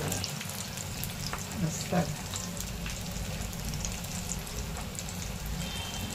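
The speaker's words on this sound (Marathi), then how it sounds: "गोल्डन ब्राउन कलर आपल्याला हे तळून घ्यायचं" Crisp pea cutlets fry in hot oil with a steady, dense sizzle and crackle throughout. The sound is close and even, and a voice briefly says a word over it.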